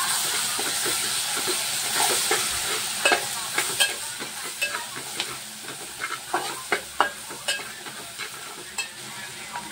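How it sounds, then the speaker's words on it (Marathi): Palak bhaji is stirred in a pan over a steady sizzle and hiss, with a spoon scraping and knocking in irregular strokes that grow more distinct toward the end. Nobody talks. "व्यवस्थित मिक्स करून घेऊया।"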